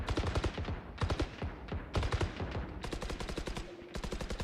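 Valorant gunfire rings out as rapid, rhythmic bursts of rifle shots, loud and close, in several clusters with brief pauses between them.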